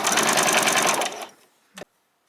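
A sewing machine runs a short back stitch on an apron, a fast, loud mechanical whir for about a second that winds down, followed by a brief final clunk.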